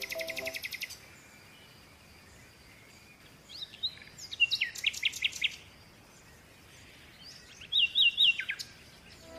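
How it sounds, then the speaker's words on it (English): Parrot calls come in two short bursts of high, squawky chirps, the first a run of about a dozen and the second a quicker cluster of four or five, faint and set against a quiet background after a brief high jingle at the start. "P for parrot."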